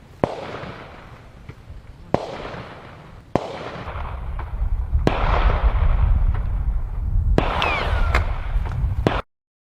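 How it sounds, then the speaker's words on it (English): Several sharp gunshot-like cracks ring out at uneven intervals over a boat outing while fishing, each followed by rumbling echo, with loud crackling bursts building in the middle before stopping abruptly. "a sudden gunshot tore through the air"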